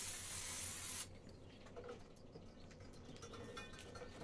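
A can of metal spray paint hisses in one steady, close burst for about a second while bike spokes are coated, followed by quiet handling noises.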